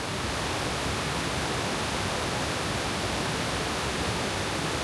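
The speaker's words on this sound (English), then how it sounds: "And there's the waterfall." A waterfall in Bali roars as a steady, dense wash of white noise, loud and unbroken, with no voices over it.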